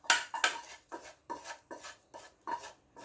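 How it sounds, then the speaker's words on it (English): Two cups of washed rice going into a pot on high heat, heard as about eight evenly spaced scraping, clattering strokes of a utensil against the pot, close and moderately quiet. "So this is just 2 cups of washed rice that I'm going to add to the pot right now"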